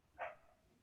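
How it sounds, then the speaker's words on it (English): A single faint, distant dog bark sounds once, short and alone, against a quiet background. "Random dog over there."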